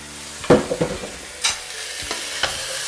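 Tinned chickpeas go into a hot pan and get stirred, giving a soft thump and sizzle followed by a few scattered scraping strokes of the spoon, close and fairly quiet.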